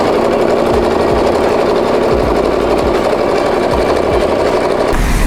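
Sewing machine running continuously through a long basting stitch with large, widely spaced stitches on a gathered skirt, a steady loud mechanical drone with rhythmic needle knocking, stopping near the end.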